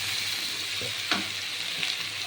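Garlic and onion paste frying in a pan for a navaratna curry, a steady close sizzle with a couple of brief scrapes from stirring, no talking.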